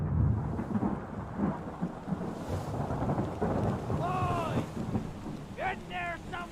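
A thunderstorm in the video game Return of the Obra Dinn rumbles with rolling thunder and steady rain, while brief voices and tonal game sounds rise over the storm later on.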